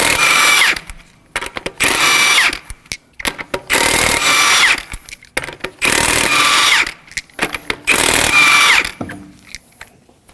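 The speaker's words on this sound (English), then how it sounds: "we're going to remove the lug nuts with a 19mm socket and your impact gun" Pneumatic impact gun zipping lug nuts off the front right wheel of a 2014-2020 Acura MDX with a 19mm socket, in five loud, close bursts of about a second each, separated by brief pauses.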